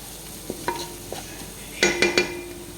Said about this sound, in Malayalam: നമ്മൾ മസാല എല്ലാം ഇളക്കുക.